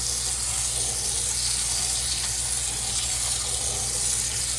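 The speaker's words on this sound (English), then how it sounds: "We're gonna put some of this in our cauldron, and we're just going to steam it right here with hot water." Hot water poured from a tap over edamame in a pot to steam it, a steady hissing gush that stays close and unbroken throughout, with no voices.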